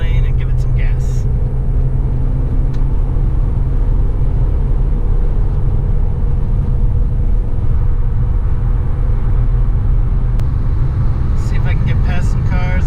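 Interior of a Honda Accord accelerating hard on a highway, a steady loud engine and road drone filling the cabin throughout, with no clear shifts.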